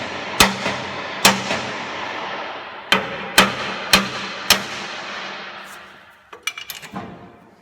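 Hammer striking a Dodge Ram steering center link, sharp metallic taps in a loose series with gaps between them, ending in a quick cluster of lighter knocks, close and clear.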